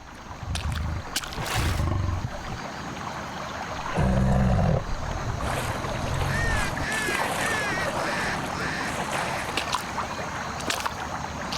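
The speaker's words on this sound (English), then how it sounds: "an unlucky duck has flown into the small pond in their territory." A duck in a small pond where young Siberian tiger cubs are hunting, with splashing and rustling water through the clip and brief quacking calls, the sound close and moderately loud.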